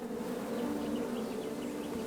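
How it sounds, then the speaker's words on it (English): Bees buzz in a steady, soft drone in the 2015 King's Quest video game, with a faint continuous hum and no voices. "Bees! I ruined the bees' day and that lovely meal."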